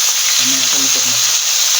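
Fish fries in a kawali, a loud, close, continuous hiss of sizzling oil. A brief low voice murmurs underneath midway.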